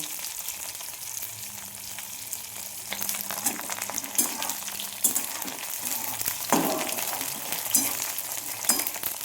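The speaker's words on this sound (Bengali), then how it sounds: "এর সাথে আমি রসুন দিয়ে দিচ্ছি, রসুনটাও আমি ভেজে নেব।" Onion, garlic and green chili fry in oil in a pan, giving a steady crackling sizzle with occasional louder spatters and stirring scrapes, close and continuous with no talking.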